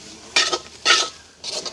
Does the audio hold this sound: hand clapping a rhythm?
no